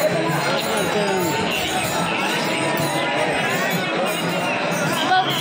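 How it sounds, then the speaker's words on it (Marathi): Dense crowd of pilgrims packed around the temple at the Pandharpur wari on Ashadhi Ekadashi, a close, constant babble of many voices and shuffling bodies, with a nearby person talking over it. "बघा गर्दी बघा, इथे आम्हाला उभं राहायला पण जागा नाहीये."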